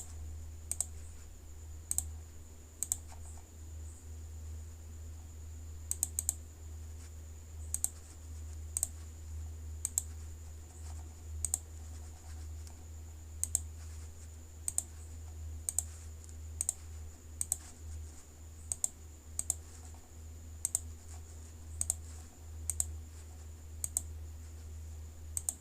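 Computer keyboard keys clicked while entering an email address into an online court-fee payment form: sparse single and paired key taps spaced irregularly over a steady low hum, close and fairly quiet, no talking.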